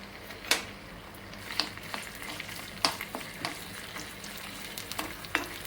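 Fenugreek seeds and curry leaves frying in a little oil in a pan give a soft, steady sizzle with scattered sharp pops and crackles, fairly quiet and close, with no voices.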